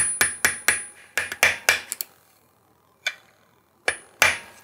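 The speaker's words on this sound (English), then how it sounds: "You just put a flathead behind there. And gently tap it into place." Sharp metallic taps of a flathead screwdriver knocking the clutch locking tab into place on a Yamaha Blaster 200 engine: a quick run of about eight close, crisp strikes, a pause, then three more spaced taps.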